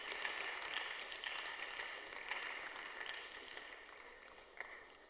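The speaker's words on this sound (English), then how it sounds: "Please, a round of applause for our judges." An audience at a university debate society event claps for the debate judges, a faint, distant, steady patter of applause with no voices over it.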